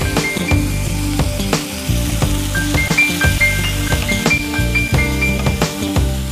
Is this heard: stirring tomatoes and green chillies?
yes